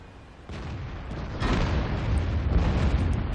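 A Black Prince tank in World of Tanks on the Erlenberg map fires its cannon, a heavy boom with rumbling low-end that builds in two stages over continuous engine drone, no speech.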